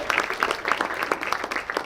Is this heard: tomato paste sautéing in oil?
no